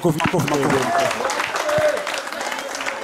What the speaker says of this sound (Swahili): Makofi jamani, makofi.